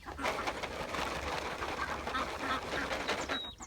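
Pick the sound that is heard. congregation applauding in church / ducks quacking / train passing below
ducks quacking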